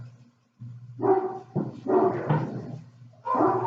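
Dog barking and whimpering in several loud bursts close by, with a steady low whine running between the barks and short gaps of near silence.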